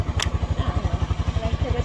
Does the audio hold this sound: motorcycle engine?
yes